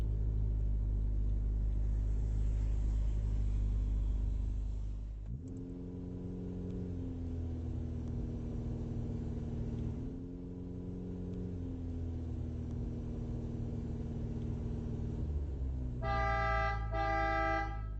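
A car driving along a road in a game set in a kangaroo's life, its engine a steady rumble throughout, followed near the end by a loud, sustained horn blast.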